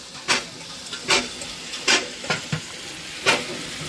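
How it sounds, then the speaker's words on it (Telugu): Sambar tempering of green chillies and tomato sizzling in a hot pan, with several sharp bursts of hissing crackle as things are stirred, over a quieter background fry. "ఇదంతా సాంబార్ తాలింపు"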